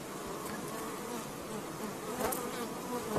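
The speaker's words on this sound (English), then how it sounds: "I'm chasing bees off of my gloves" Steady, dense buzzing of many honeybees swarming close by during a hive inspection, continuous throughout with no talking.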